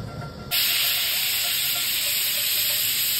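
Steady loud hiss of steam venting from a pressure cooker with desi chicken inside, starting abruptly after a brief quieter moment and holding constant with a thin high whistle-like tone throughout.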